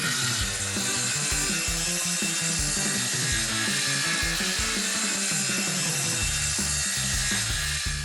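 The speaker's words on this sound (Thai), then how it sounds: "ส่วนต่อไปที่พ่อชอบมากที่สุดก็คือการเลื่อย" A hand saw rasps through wood in quick, steady back-and-forth strokes, loud and close, with no voices.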